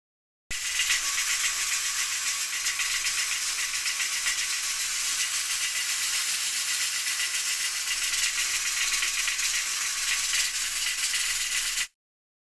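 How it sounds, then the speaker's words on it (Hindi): A pressure cooker holding mustard greens for saag hisses and rattles steadily under its weight, a loud continuous jet of steam lasting the whole stretch without pause. "प्रेशर कुकर का ढक्कन लग चुका है, अब इसके ऊपर वेट लगा देंगे, उसे 1 घंटे के लिए पकने के लिए छोड़ देंगे।"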